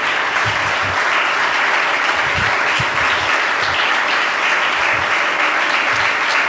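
Loud, dense congregation applause during a church sermon, a continuous wash of clapping from many hands sustained evenly for several seconds, close and full.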